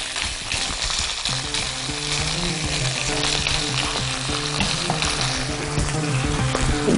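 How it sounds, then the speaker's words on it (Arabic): Slices of meat sizzle in a pan with onion, a steady dense hiss of frying running throughout with faint scraping as pieces are turned. "بصوا بقى نديها بقى تشويحه للناحيه الثانيه كده"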